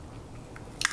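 A single sharp crunch of teeth biting into a crisp snack, close and brief, after a moment of quiet.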